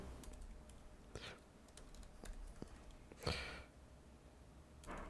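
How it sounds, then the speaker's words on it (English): Typing on a computer keyboard while entering a name in Solidworks: sparse, faint key clicks in a quiet room, with a few separated taps and one slightly louder burst. "I'm just going to type my name in."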